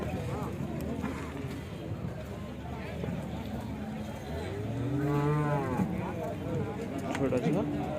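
Cattle moo loudly with long, drawn-out calls at a busy Sunday cow market in Chintamani, heard over steady crowd chatter and people talking nearby.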